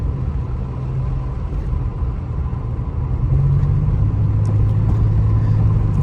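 A supercharged Pontiac 6000 wagon cruises on a road at 45 to 55 mph, with a constant low engine and road rumble heard from inside the cabin, rising slightly toward the end.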